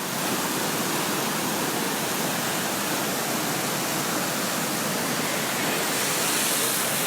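Düden waterfall roars in a dense, steady rush of falling water, loud and close, with no break across the whole stretch.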